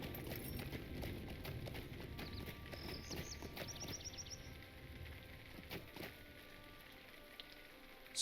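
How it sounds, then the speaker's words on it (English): Horses' hooves clip-clop steadily at moderate distance in the fantasy game Lord of the Rings Online, over a soft outdoor ambience with a short run of bird chirps midway. "Oh, there's some horses."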